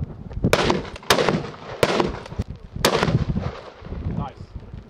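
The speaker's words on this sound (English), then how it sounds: "We have a Rigby big game rifle in 416." Several loud, sharp shots from a Rigby .416 big game rifle at an outdoor range, each a hard crack with a rolling echo, spaced unevenly under light background talk.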